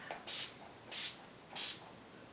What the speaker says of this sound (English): Shake it up, take off the lids, then spray it on my face.